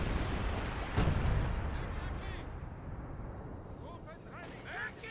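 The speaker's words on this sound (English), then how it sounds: "Yeah, that's some British artillery." Artillery fire in the Company of Heroes 2 strategy game: a loud heavy boom near the one-second mark, then rumbling battle noise with smaller bursts, under someone talking throughout.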